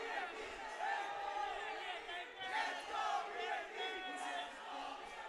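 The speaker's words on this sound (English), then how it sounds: "Let's go VLT is what the crowd is saying at this point." A large crowd chants and cheers in a packed arena at a Valorant Challengers South Asia esports finale, a loud rhythmic roar of many voices that swells and ebbs under an excited commentator talking throughout.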